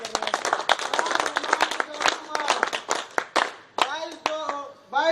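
A small group claps unevenly for a roleplay performance of a village council meeting, with sharp, scattered hand claps close by in an irregular rhythm, while voices talk over it and become more prominent near the end.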